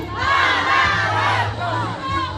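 A crowd at a barangay political rally shouts a drawn-out chant in unison, loud and close, with a brief dip before the voices swell again.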